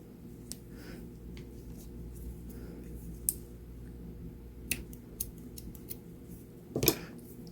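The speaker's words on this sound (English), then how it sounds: "Trim our ends" Scissors trim yarn ends on a small crocheted button pouch, a handful of sharp quiet snips spaced apart, ending with a louder cluster of snips, close up against a low hum with no talk.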